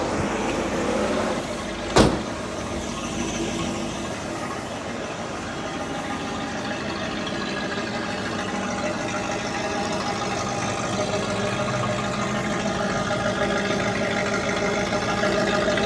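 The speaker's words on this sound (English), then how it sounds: "Get a little close up so you can hear the exhaust." Exhaust of a silver blue 1965 Ford Mustang Fastback with a stock 289 two-barrel V8, a steady, moderate idle rumble heard up close, with a brief sharp knock near the start.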